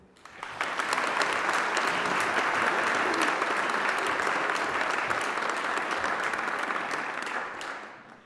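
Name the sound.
graduation ceremony audience applause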